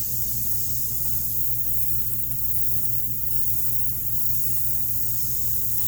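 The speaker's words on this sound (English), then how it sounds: "even though I'm spraying it with yellow" Yellow paint sprays steadily onto a Harley motorcycle, a continuous close hiss that holds level throughout with no talk.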